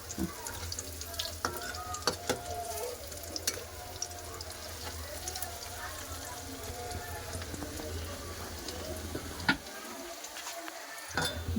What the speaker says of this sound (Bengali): তেল গরম হয়ে গেছে এরকম বড়া শেপে ভেজে নেবো